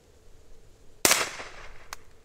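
A single sharp crack from a Walther PPK/S .22 LR pistol firing Aguila Interceptor ammunition rings out once, followed by a brief echoing tail and a faint metallic click, fairly close outdoors with no talk.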